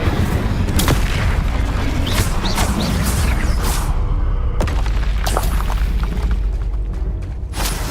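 Incendio fire spell cast in the video game Hogwarts Legacy sets off loud, repeated booming fiery blasts and crackling impacts over several seconds, ending with a few sharper bursts as the rumble eases.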